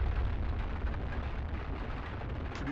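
A rumbling meteor impact explosion in the video game Eco, striking a capital: a dense, sustained low roar with crackling debris, steady and loud throughout with no voices.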